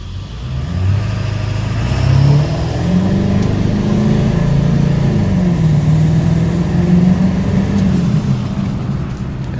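A 7.3 Power Stroke diesel truck with a turbo-back exhaust and 6-inch tip accelerates from a standstill. The deep engine drone climbs for about two seconds, then holds a loud, steady roar from inside the cab.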